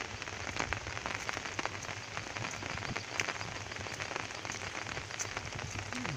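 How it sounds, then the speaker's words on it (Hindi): Continuous rain falling on a farm in a village after two days of downpour, a steady dense patter of drops with scattered sharper ticks, fairly soft and without voices. "2 दिन से कंटिन्यू बारिश हो रही है, रुकने का नाम नहीं ले रहा है"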